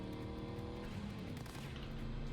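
Continuous roar of race car engines in the video game Cyberpunk, droning at steady pitch, dense and unbroken, with no voices.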